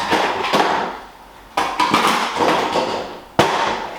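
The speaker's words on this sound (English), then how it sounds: "So let's get the extractor tool on it." A metal extractor tool hammers a bearing out of a Bontrager bicycle freehub, giving sharp, loud knocks with ringing decays, three or four struck at irregular intervals close by.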